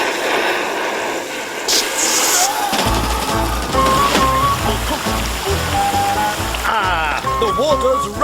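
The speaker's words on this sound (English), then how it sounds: "The water's running at last." Water gushes steadily from thawed, previously frozen pipes in an animated cartoon setting, a continuous running stream with drips and splashes while voices talk and music plays over it.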